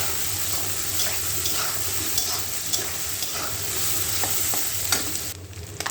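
Dried Bombay duck (loitta shutki) fries in a pan in the manner of potato fry, giving a dense, loud, continuous sizzle with occasional stirring, close up and without talk.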